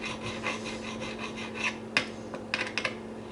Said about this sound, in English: You want to crown each one.